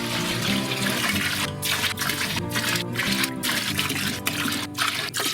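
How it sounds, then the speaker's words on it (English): Distillation feints collected from several spirit runs are poured into a still pot as a steady, loud trickling stream of liquid, broken by a few splashy gurgles. "And so all you would do is you'd throw all your feints into the pot."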